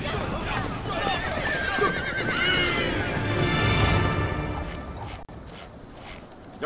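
Horses whinny loudly and hooves clip-clop steadily through a scene in a martial-arts action drama, with voices mixed in.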